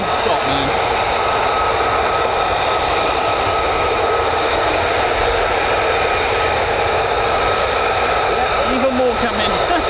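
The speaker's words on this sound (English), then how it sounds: "Non-stop carousel of aircraft here at the moment." F-15 and F-35 fighter jets flying at RAF Lakenheath, a loud continuous engine roar with a steady whine, heard over a live broadcast with voices talking faintly underneath.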